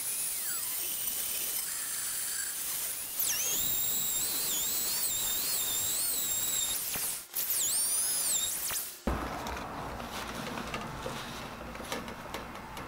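A Dremel rotary tool sharpens a bandsaw blade, giving a steady high whine that rises and falls with the grinding, with sharp squeals partway through, then drops to a lower hum near the end.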